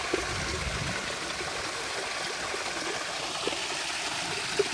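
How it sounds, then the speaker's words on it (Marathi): Water rushes steadily from a small waterfall in the countryside where wild vegetables are being foraged, a continuous broadband splashing that stays even and moderately loud from start to finish with no talk. "असं धबधबा."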